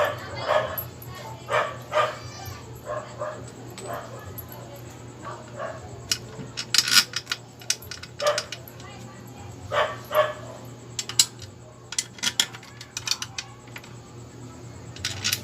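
Several dogs bark and yip in repeated short bursts throughout, fairly close, with a steady low hum underneath and occasional light clatter.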